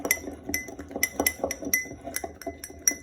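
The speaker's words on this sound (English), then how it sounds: "You basically just give that a stir up so it's mixed well together." A fork stirs a cal mag mixture in a container, giving rapid, irregular metallic clinks and scrapes against the sides, close-up and with no voices.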